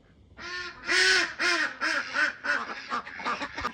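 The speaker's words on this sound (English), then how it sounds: "That's the lead drake or the lead few drakes just giving a quack so they can all get rumbling" Ducks in a winter yard, with a lead drake or a few drakes setting off a run of loud, close quacks that come in an uneven series and then fade into softer calls.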